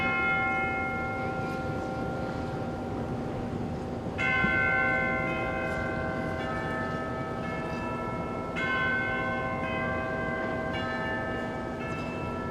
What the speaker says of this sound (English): Listen to the bells of London.